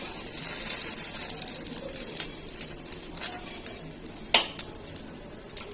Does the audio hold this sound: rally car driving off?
no